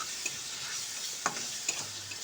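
Spices frying with ginger garlic paste in a pan for a ridge gourd curry, a constant close sizzle with a few spatula scrapes and taps punctuating it, no talk.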